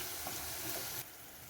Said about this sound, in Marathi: कांदा आपल्याला लालसर होईपर्यंत भाजून घ्यायचा आहे